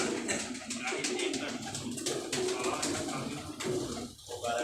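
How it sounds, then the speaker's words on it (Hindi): Pigeons kept in pairs in a large room at a pigeon club coo steadily and densely up close, with overlapping soft calls filling the air and a faint voice beneath. "देखें ना कबूतर परेशान है"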